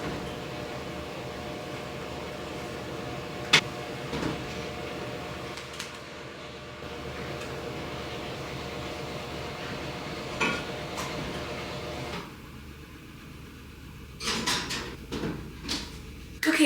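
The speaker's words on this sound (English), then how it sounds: "take the Dutch oven out of the oven, take the top off, plop it in," A hot Dutch oven being handled for sourdough baking: a sharp metal clank early, a quiet stretch of low oven hum, then a cluster of knocks and scrapes as the lid comes off and the pot goes back into the oven.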